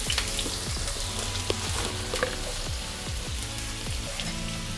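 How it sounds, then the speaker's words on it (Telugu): Onions and green chillies sizzle in hot oil in a kadai while a Telugu dry prawn and gongura curry is made, giving a steady close crackle with scattered sharp pops and no talk. "ఆయిల్ వేసుకొని ఆనియన్స్ పచ్చిమిర్చి వేసుకుందాం."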